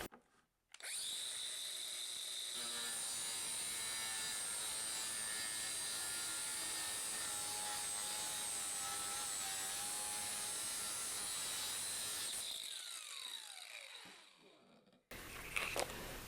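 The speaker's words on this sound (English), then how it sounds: "Now I've got my guard on my grinder, and like I said, I've got just a concrete blade in there." An angle grinder fitted with a concrete blade and guard cuts through vinyl siding in one steady, sustained high-pitched whine with a gritty edge, winding down at the end.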